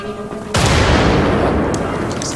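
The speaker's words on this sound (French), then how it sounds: "Tiens, une grenade" A loud, close grenade explosion in the shooter game Wolfenstein: The Old Blood bursts suddenly after a moment of quieter game sound, then rolls on as a long, dense rumble that slowly fades.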